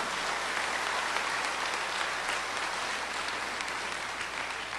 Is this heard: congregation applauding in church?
yes